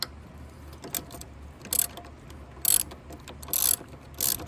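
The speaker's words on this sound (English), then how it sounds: "then we'll start pulling bolts out of the alternator" Socket ratchet with a number 10 socket loosening alternator bolts on a 2009 Range Rover Supercharged, heard as four short, loud clicking bursts spaced about a second apart over a quiet workshop background.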